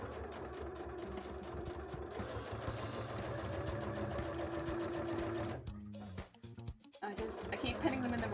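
A sewing machine runs in steady, fast stitching bursts while sewing a bra cup for a rainbow bra, with a short pause near the end before it starts again; a voice is faintly present at times.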